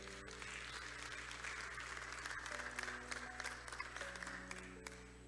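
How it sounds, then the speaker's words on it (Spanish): A church congregation applauds through a sustained patter of clapping, heard faintly with organ or keyboard tones held underneath. "Dale un aplauso al Señor."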